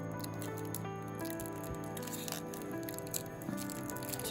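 Seiko 4R34 automatic watch movement being hand-wound, a faint rapid ratcheting of tiny clicks close up against a quiet background.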